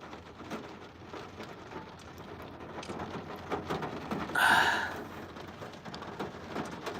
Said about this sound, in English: Starting to get on some heavier rain now.